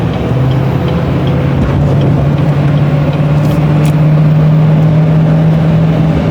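A 2017 Chevrolet Silverado pickup with a Banks tuner pulls hard under acceleration, its engine a steady loud drone heard from inside the cab, with no talk over it.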